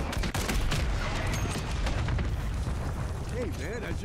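Dense rapid gunfire and booms from the Warzone video game, a continuous loud barrage with a voice speaking briefly near the end.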